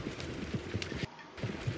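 Horse hooves clip-clop in a video game, a string of soft, evenly spaced thuds close by with a brief silent gap partway through, and no one speaking over them.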